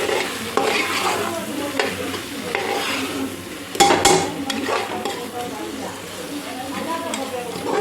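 A spoon stirs coriander powder and spice mix in a hot pan for pulao, with steady sizzling and scraping, a sharper metallic clank midway, while a person talks over it.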